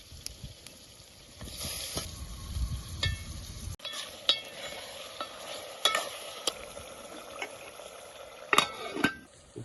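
Chicken frying in a pan as it is stirred, with a continuous sizzle and repeated sharp scraping and clinking stir strokes close by, no voices.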